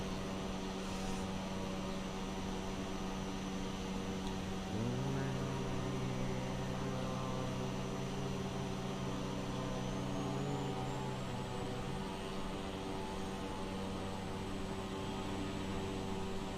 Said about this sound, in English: Airplane goes brrr.